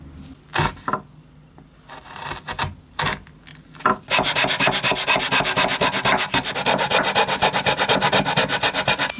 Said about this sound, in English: I will trim the block a little bit.